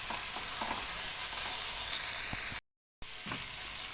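Onion and spiced chicken for shish tawook stirred while frying in a pan, a steady close sizzle with soft scraping, briefly cut to silence before resuming.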